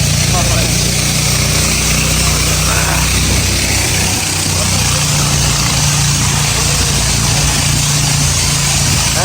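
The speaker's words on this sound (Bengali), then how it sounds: "আমাদের ট্রলারের শব্দ ছাড়া খুব কমই শব্দ এখানে" A trawler boat engine drones loudly and continuously in the Matamuhuri Reserve Forest, a low steady rumble that never lets up for the whole stretch.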